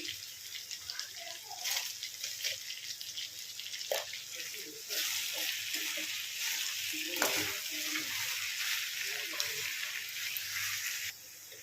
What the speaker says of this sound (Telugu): ఉప్పు కారం మంచిగా కలుపుకున్నాం కదా